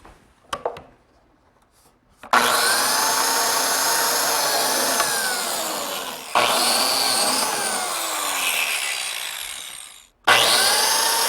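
A biscuit cutter slots old pine boards in three long, loud, whining cuts, each starting abruptly and holding a steady motor-and-blade roar, with short silent gaps between them.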